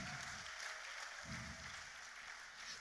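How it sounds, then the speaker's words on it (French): A church congregation claps together during a French-language service, two bursts of dense applause rising over a steady sustained organ or keyboard tone, fairly loud and close throughout. "Clap for the Lord."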